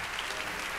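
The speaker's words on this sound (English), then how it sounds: "Let's welcome Marie with a big round of applause." Steady applause from a live magic show audience greets an assistant invited up from the crowd, a dense, even wash of clapping with no breaks.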